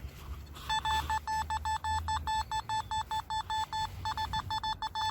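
A metal detector swung over the ground gives a quick series of short, evenly spaced electronic beeps, fairly loud and close against faint outdoor background.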